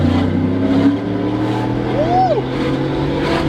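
A Ford Shelby GT500 engine drones with a steady, loud low hum during a test drive, swelling slightly as it revs, with a brief whistle-like rising and falling tone partway through.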